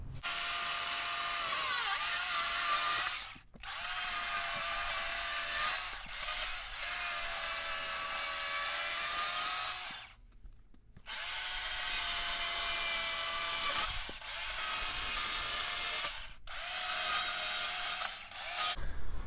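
A knife carves angled cuts into wood for a ghost figure, a series of long close scraping and shaving strokes separated by short pauses, with no talking.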